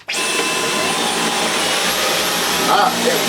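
A Dyson V11 Absolute cordless vacuum cleaner starts up and runs at a loud, steady high-pitched whine throughout, with a faint voice partly beneath it.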